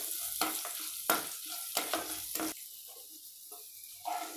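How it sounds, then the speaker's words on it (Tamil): Sun-dried vathal berries frying briefly in oil on a low flame, heard as short bursts of crackling sizzle and spoon scrapes with quieter gaps between them, close and fairly soft. "எண்ணெய் கொஞ்சம் காஞ்சதும் நம்ம வத்தல் இதில் போட்டு எண்ணெயில் போட்டு வறுத்து எடுத்துடலாம்."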